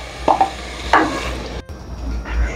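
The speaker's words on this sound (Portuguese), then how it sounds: "Ó, deixamos refogar um pouquinho. Vamos colocar molho de tomate." Meatball mixture sautéing in a pan for baked pasta with meatballs as ready-made tomato sauce from sachets goes in and is stirred, giving soft scraping strokes and a low sizzle close by, with no talking.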